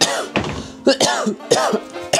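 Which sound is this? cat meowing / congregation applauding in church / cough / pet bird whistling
cough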